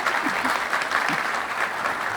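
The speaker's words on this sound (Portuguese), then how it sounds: "mais uma salva de palmas" An audience at a Brasil nos Trilhos rail industry panel event gives a short burst of steady, dense applause.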